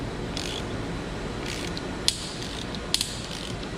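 Ratchet clicking steadily as an extractor turns a broken spark plug in a 5.4L 3V engine head, close and fairly loud, with a few sharper metallic clicks and creaks along the way.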